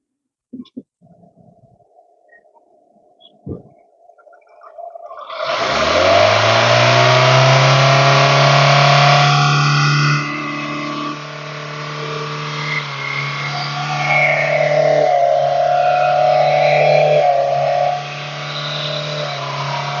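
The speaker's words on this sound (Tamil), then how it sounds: "வண்டியை நான் ஸ்டார்ட் பண்ணி காமிக்கிறேன்" A car sits quiet, then its engine cranks and catches with a loud start. It settles into a strong idle and is then revved up and down several times, close by and without talk.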